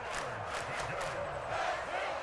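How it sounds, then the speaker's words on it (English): A stadium crowd roars steadily at an NFL game between the Miami Dolphins and Las Vegas Raiders as a big third down approaches, with a commentator's voice running over the continuous cheering. "the crowd getting into it as we come up on a big third down"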